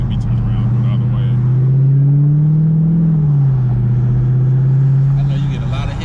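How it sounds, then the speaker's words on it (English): A Dodge Hellcat engine in third gear drones loudly with a steady low tone that rises slightly and then falls back, heard from inside the car with a person talking over it. "I'll be riding in third gear because I like that whine"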